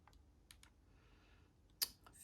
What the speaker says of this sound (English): So let's type those in.